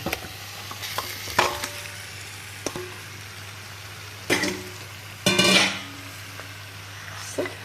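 Pieces of freshwater jella fish are tossed into a pan and stirred for a thick curry, giving scattered scraping and clattering bursts over a steady low hum with a soft background sizzle.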